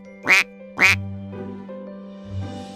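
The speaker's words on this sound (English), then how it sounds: "4 is for 4 little ducks." Two sharp cartoon duck quacks in quick succession from a children's counting lesson, loud and close, followed by a soft musical backing.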